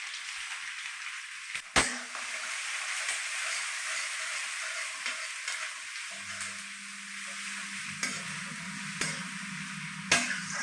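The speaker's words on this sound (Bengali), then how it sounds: "পেঁয়াজটা একটু লাল করে ভেজে নেব" Onions frying with bay leaf in mustard oil in a wok hiss and sizzle close by, broken by sharp metallic clinks of a spatula at intervals, with a low steady hum entering partway through.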